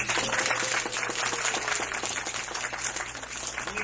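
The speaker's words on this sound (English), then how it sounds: "Give yourselves one big round of applause" Audience applause at a live animal show, dense clapping from a crowd that stays steady and fairly loud before thinning slightly toward the end.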